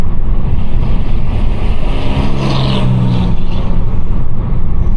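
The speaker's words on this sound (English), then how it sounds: "you can hear the turbo spool when the window is down" With the window down, a 2021 Mercedes-Benz A250 pulls under loud road and wind noise, and its turbo spools up partway through in a rising whistle that swells and then fades.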